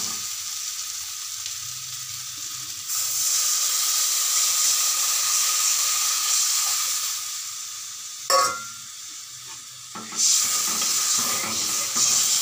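Water poured into a pan of sizzling, well-fried spiced masala brings a sudden loud rush of hissing and steaming that keeps going steadily, with a brief clatter partway through and no voices.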